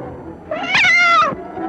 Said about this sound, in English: Yet a cat arches its back in fright.